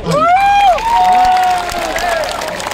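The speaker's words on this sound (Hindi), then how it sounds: "एक बार जोर से ताली बाजे" Large crowd at a tea community protest rally in Tinsukia, Assam cheering and clapping loudly, with shouting voices and whistles rising over the applause, which stays loud and dense throughout.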